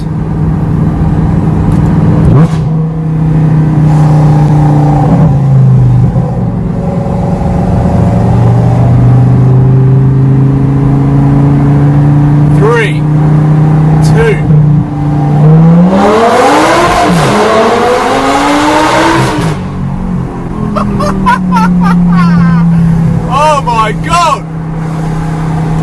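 Lamborghini LP560-4 fitted with an Armytrix exhaust revs hard inside a tunnel, loud and close, with rising and falling engine sweeps, sharp crackles and echoing blasts filling the space.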